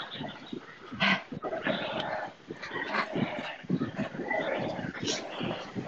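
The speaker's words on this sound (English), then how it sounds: "Yes, crazy dog." Dog barking during a cycling race stage, a few sharp yips and barks in short bursts, fairly near, mixed with people talking.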